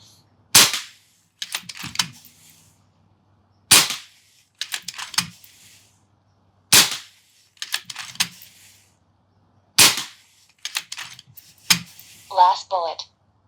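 An FX Impact M4 air rifle fires a five-shot group outdoors, with five sharp, loud cracks spaced about three seconds apart. Each shot is followed by quieter clicks of the action being cycled, and a short electronic chirp comes at the end.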